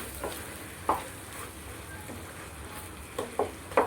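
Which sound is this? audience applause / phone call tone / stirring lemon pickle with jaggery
stirring lemon pickle with jaggery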